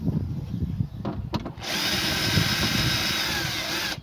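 A power drill drives 6 mm screws into a window regulator inside a Fiat Panda 1.2 (169) door, starting after a few clicks and running as a steady, close whine for about two and a half seconds.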